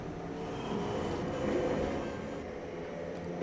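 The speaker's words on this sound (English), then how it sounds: "Gotta send the K train on the local track." A K subway train runs on the local track, a steady, loud rumbling drone with rail clatter that swells slightly midway and holds without pause.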